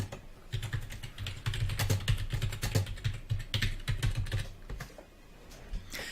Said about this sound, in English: Needs to type something to Terry for a second.